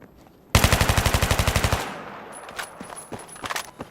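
A machine gun in Battlefield 3 fires a rapid burst of about fifteen evenly spaced shots, loud and close, followed by fainter scattered gunfire and clatter.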